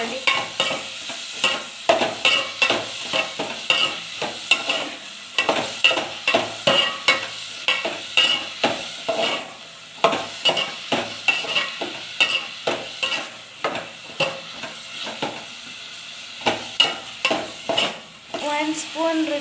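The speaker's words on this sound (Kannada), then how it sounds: "ಹಿಂಗೆ ಒಂದು ಸ್ವಲ್ಪ ಬ್ರೌನ್ ಆಗೋ ಮಟ್ಟ ಫ್ರೈ ಮಾಡ್ಕೊಳ್ಳಿ" Chopped coriander fries in hot oil for a pulao, with a steady sizzle punctuated by rapid, rhythmic scraping strokes of a spoon stirring close by throughout.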